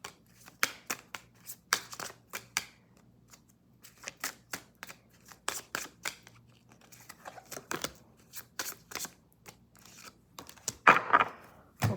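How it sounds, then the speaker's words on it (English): Tarot cards being shuffled, with repeated crisp riffling bursts and taps coming in uneven rhythm, close by and fairly loud, separated by brief quiet pauses. "we are done with the shuffling process"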